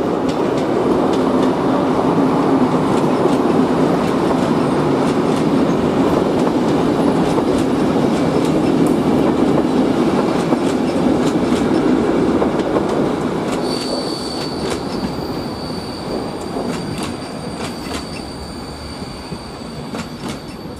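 A train at Brno main station in Czechia, rolling with a steady heavy rumble and rhythmic wheel clatter, loud and close, then easing as a high wheel squeal rings out over the quieter tail.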